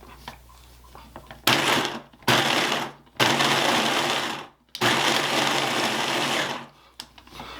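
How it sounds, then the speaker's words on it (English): Food processor pulsing a pie crust mixture into pea-sized crumbs, with several loud bursts of a second or more separated by brief stops; close and loud, no talking. "we're going to pulse this again until we get little crumbs"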